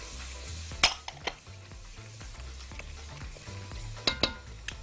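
Chopped tomatoes going into hot tomato sauce in a pan, a low steady sizzle with a few sharp clinks of a utensil against the pan and some stirring scrapes, close and fairly quiet.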